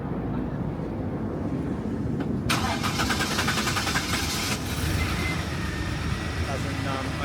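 A VN Commodore car engine cranks and catches, a sudden bright burst of starter and engine noise rising over a steady rumble, then settling into a running idle.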